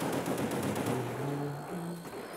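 Rapid gunfire in Call of Duty zombies on the Ascension map, a dense continuous burst of shots over game tones, fairly loud and steady.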